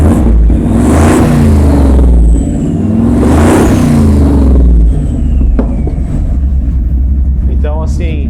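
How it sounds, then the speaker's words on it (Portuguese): A Dodge Dakota R/T pickup with a 5.2 V8 turbo and side exhausts roars loudly up close, its engine revving up and settling twice in a deep rumble, with a voice talking over it. "São essas saídas de escapamento laterais, que ficou muito charmosa nela, e o ronco desse carro,"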